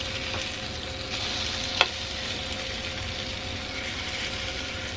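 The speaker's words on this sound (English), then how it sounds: "I'm gonna go over now and check their French toast and see if they need to be flipped" French toast fries on a stovetop with a soft, steady sizzle and one brief sharp click partway through, no talking.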